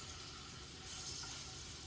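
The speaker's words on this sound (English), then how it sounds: "You hear it sizzling." Food sizzles quietly in a pan on a heated stovetop, a steady soft crackle and hiss with no voices.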